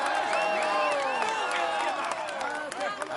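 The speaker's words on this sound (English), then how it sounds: "Come on, let's applaud him once more." A large outdoor crowd at a Tour de France podium ceremony cheers and applauds in a dense, continuous roar, with whoops and voices mixed throughout.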